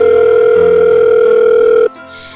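A telephone sounds a steady, loud electronic ring tone that holds for nearly two seconds, waiting to be answered, then cuts off abruptly into near silence.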